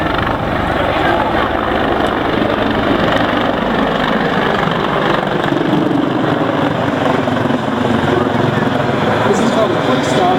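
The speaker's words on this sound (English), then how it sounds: "This is called a quick stop where the pilots are rotating about the tail rotor, using that huge disc area to stop very quickly." A helicopter performs a quick stop at an airshow, its rotor and engine producing a loud, steady whirring roar throughout, close and dominant, while someone talks over it.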